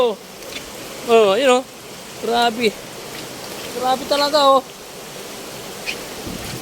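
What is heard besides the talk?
heavy rain and fast-flowing flooded river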